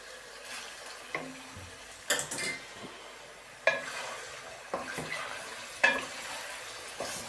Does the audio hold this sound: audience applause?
no